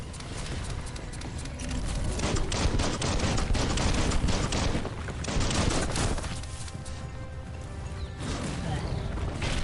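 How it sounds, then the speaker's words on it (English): Sustained bursts of rapid gunfire rattle almost nonstop through a chaotic firefight in the action game Biomutant, dense and loud, with scattered impacts and crashes layered over the shooting. "Bullets everywhere."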